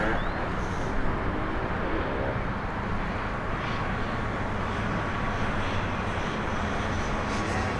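An aircraft approaching Birmingham airport to land, evening, a steady broad distant engine roar that holds evenly throughout with no clear rise or pass.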